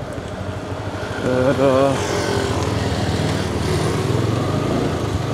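A Yamaha R15 motorcycle runs while being ridden, its engine a steady close drone that swells briefly as it revs, with someone speaking over it.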